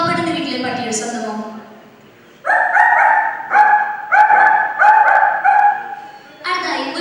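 At a girls' mimicry competition during the Kerala State School Kalolsavam, a performer voices a poor house's dog: a whiny opening, a pause, then a quick run of about six sharp, loud yelping barks and a final yelp.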